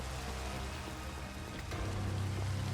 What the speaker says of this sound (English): Nice, we even have like a roof from the rain here.